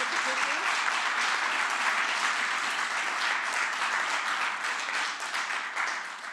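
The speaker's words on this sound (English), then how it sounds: "Your applause is noted." Sustained audience applause fills a city council meeting chamber, a dense, steady wash of many hands clapping that holds loud throughout before thinning slightly near the end.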